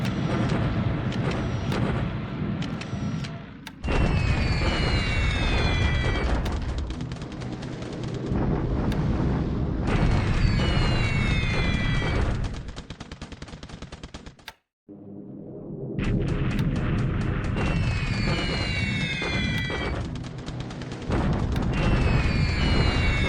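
Dense, continuous barrage of bomber-raid explosions and rumbling blasts in the wartime strategy game War in the Pacific, loud and sustained with brief breaks, rattling impacts layered over deep booms.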